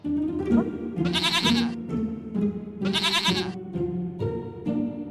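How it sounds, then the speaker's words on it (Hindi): A goat kept at home bleats in three or four nasal, wavering cries close by. Each cry stands out over a steady low hum in the background. "ये तो प्यारी सी बकरी है"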